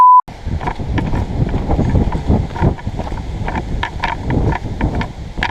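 Strong gusting wind buffets the microphone, a steady low roar with rustling surges and no one speaking.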